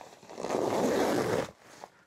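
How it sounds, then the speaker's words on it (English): A YKK zipper is pulled open along a Helikon-Tex EDC backpack in one smooth, close, rasping run of about a second, followed by a brief quieter tug. "with it being YKK zippers, they open quite nice"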